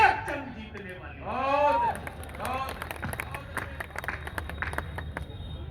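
An audience claps for a poet at a kavi sammelan poetry gathering at the Lakhimpur Kheri fair. A voice speaks over the first seconds, then steady crowd applause builds and continues to the end.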